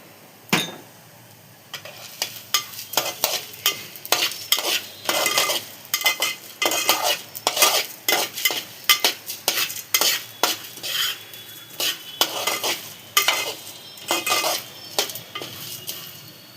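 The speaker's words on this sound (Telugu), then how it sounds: "చూసారా, ఇలా లో ఫ్లేమ్లో దోరగా వేయించుకోవాలి" Moringa leaf powder mix frying on a low flame, with rapid repeated scraping and clinking of a metal spoon against the pan over a soft sizzle, close and busy, no talk.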